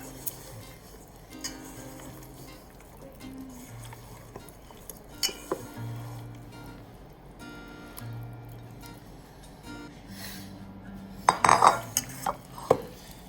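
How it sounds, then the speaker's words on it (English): A utensil mixes red onion potato salad in a bowl, with soft squishing, scraping and occasional clinks against the dish, building to a cluster of louder knocks near the end. "I'm gonna start to mix."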